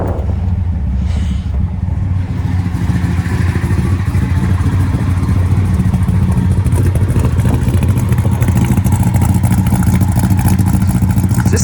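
A restored 1969 Plymouth Road Runner V8 cranks and fires up, then settles into a loud, steady, rumbling idle with a restored exhaust, heard close and continuous with no talking.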